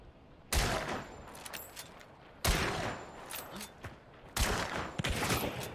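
Three loud, sharp gunshots from a weapon in a game, well spaced about two seconds apart, each followed by a short rattling decay over quiet background.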